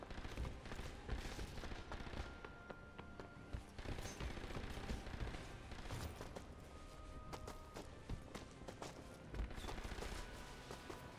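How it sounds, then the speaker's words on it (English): Rapid bursts of Thompson submachine gun fire in the video game Sniper Elite V2 crackle repeatedly, dense automatic volleys fairly faint and continuous with short gaps between strings of shots. "That was just me just shooting. I'm just wasting all my ammo and my Thompson."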